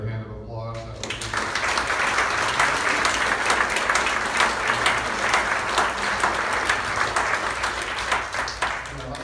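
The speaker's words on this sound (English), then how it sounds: "let's give them another hand of applause" An audience applauds loudly and continuously, dense clapping from a crowd sustained for several seconds with no talking over it.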